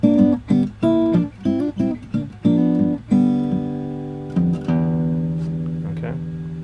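Steel-string acoustic guitar playing the opening of the second verse of a tune in fingerstyle: a run of short, punchy plucked chords, then longer ringing notes and sustained chords that slowly fade, played alone.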